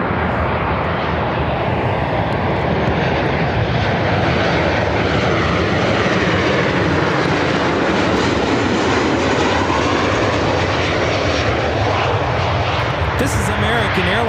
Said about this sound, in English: This is American Airlines 2161 coming in from New Orleans on a 737-800.